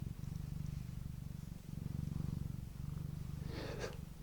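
A cat being stroked on the neck purrs close to the microphone, a soft, rhythmic rumbling that rises and falls with each breath and continues steadily, with a faint rustle near the end.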